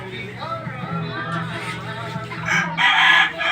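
A rooster crows among chickens offered for sale, with a loud, drawn-out cock-a-doodle-doo rising near the end over clucking hens and people talking close by.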